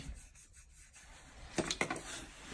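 A few brief rubbing and scraping strokes as the surface of a PVC drain pipe column is abraded, soft and close, with faint background noise and no speech.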